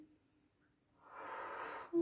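A person draws in a slow, soft breath during a light balance exercise, a gentle airy inhalation swelling for about a second, faint and close, ending with a brief louder puff.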